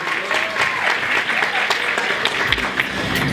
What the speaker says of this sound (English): Another round of applause for Melissa Geer.